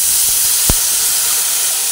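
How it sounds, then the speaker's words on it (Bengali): Water poured into a hot pan of frying spices with turmeric and salt, giving a steady broad steam hiss throughout with one brief sharper burst near the start. "পরিমাণ মতো জল দিয়ে দিচ্ছি।"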